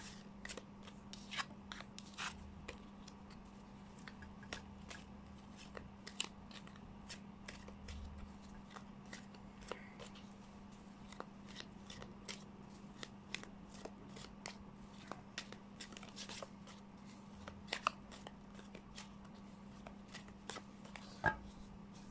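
Tarot cards being shuffled by hand, a steady run of soft riffling flicks and taps repeating close up over a constant low hum, with no talking.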